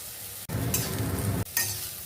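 Bitter gourd stir-fried in a pan gives a close, steady sizzle with scraping stirs, cut by two brief breaks and resuming loudly.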